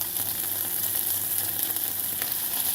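Potatoes fry in hot oil with a loud, continuous sizzle that stays close and even throughout, with no talking.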